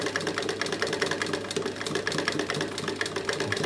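A Singer 31k15 industrial sewing machine runs steadily at slow speed, a close, even, rapid mechanical chatter with a low motor hum and no talking.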